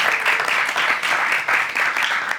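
An audience applauds the panelists at the close of a panel discussion on democratic strategies against insecurity, a dense, steady burst of many hands clapping loudly throughout.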